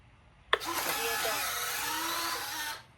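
An electric retract landing gear on a Nexa P-47 RC warbird model cycles with a sharp click followed by a steady, close whirring servo motor hum for about two seconds before stopping abruptly.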